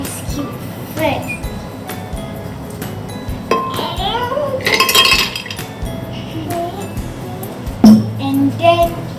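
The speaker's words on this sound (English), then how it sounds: "Take the ice cube first." Ice cubes clink and knock against a glass while a drink is made with sugar, water and mint, scattered bright taps amid kitchen clatter and someone speaking.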